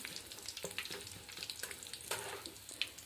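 Oil heating and frying in a pan in a village kitchen, a dense crackling sizzle with small pops throughout, close and moderately quiet.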